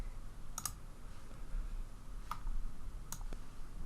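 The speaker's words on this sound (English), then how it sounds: "click Export to Emulate3D." A few sparse, quiet mouse clicks on an Export to Emulate3D button in Autodesk Inventor: one near the start, then two more close together, each alone over a faint room hiss.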